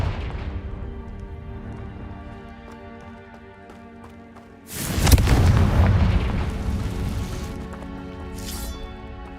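A Confringo blasting spell explodes in the video game Hogwarts Legacy: a sudden heavy boom bursts in midway after a quieter stretch, then a rumbling, crackling tail fades out.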